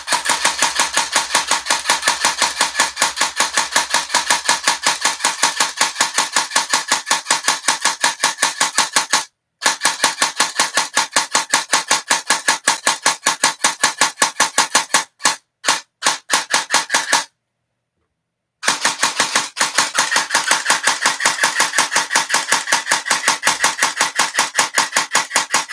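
A CYMA CM097 airsoft gun fires continuously during an endurance test, a dense, steady mechanical rattle of rapid shots that runs almost unbroken, with a few brief stops and one longer pause near the end before the firing resumes.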